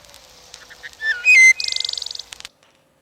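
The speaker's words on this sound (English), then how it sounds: "This is a wood thrush." A wood thrush sings a varied phrase of clear fluting notes, then a rapid buzzy trill, close and distinct against quiet, ending abruptly.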